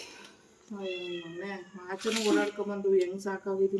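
A cat meows several times up close, drawn-out plaintive calls following one another, with a short breathy burst partway through.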